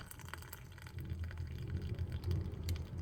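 Water for a homemade clove and rosemary hair spray is poured into a container close by, a continuous splashing fill that grows fuller and louder, with small drips and clinks and no speech.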